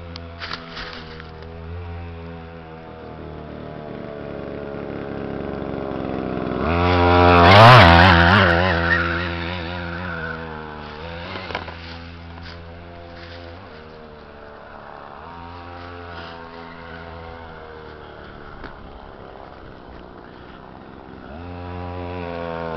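Small two-stroke engine of an off-road Go-Ped scooter runs steadily, swelling to a loud close rev around the middle before settling back to a buzzing idle-to-mid throttle drone.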